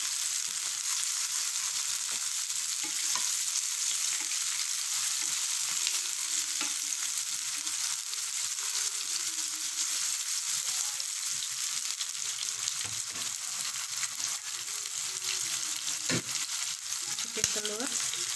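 Chili, scallion and tomato stir-fry in a hot pan for grandma's noodles, giving a continuous loud sizzle with occasional scraping stirs and a faint voice beneath.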